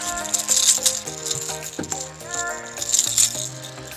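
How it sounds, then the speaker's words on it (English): A vibe fishing lure rattles underwater in a freshwater dam, giving a busy, shaking clatter of repeated ticks that rises and falls over the whole stretch, with some background sounds mixed in. "Hear the rattle. That's the thing under the water, and it just transmits that vibration and the sound all the way through"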